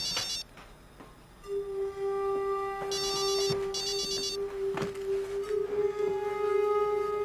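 A telephone ringtone plays in a quiet indoor scene of a Chinese urban drama, with a sustained electronic tone and repeating bursts of melody at moderate volume and no voices.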